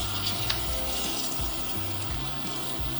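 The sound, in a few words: Wagyu osso buco searing in oil in a pan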